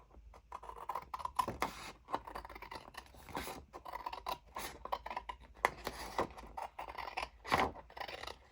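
Scissors snip repeatedly through paper strips for a craft project, a run of crisp close cuts and light scraping rustles spread unevenly across several seconds, with no voices.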